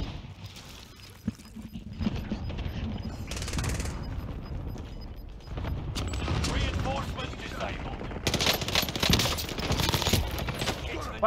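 Rapid gunfire bursts and scattered shots from a multiplayer video game shooter, loud and near, overlapping with players talking over voice chat.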